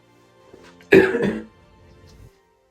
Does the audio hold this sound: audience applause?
no